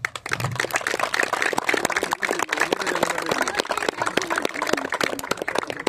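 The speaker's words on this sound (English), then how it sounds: "can we have a massive round of applause for all of us?" Crowd applause at a post-match presentation ceremony after a Bradford Phoenix versus Apperley Bridge game, a dense, steady wash of many hands clapping close by throughout, with a few voices mixed in.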